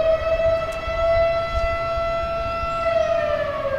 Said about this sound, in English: That's the beautiful sound of the cruise ships coming down from the Delta to Sacramento.